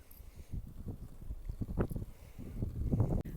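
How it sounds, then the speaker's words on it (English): Wind blows at a regional park, buffeting the microphone in low, uneven rumbling gusts that swell and fade close by, with no talk. "it is windy. You can probably hear it"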